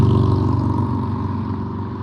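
Loud motorcycles pass close by an intersection, a steady heavy engine drone with a pulsing low rumble that slowly eases off over two seconds, with no talk.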